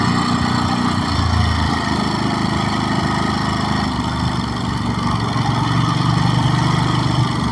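A Ducati Monster SP 950 motorcycle engine runs with a continuous, loud, steady drone, holding a fairly even pitch throughout with slight swells, heard alone without talk.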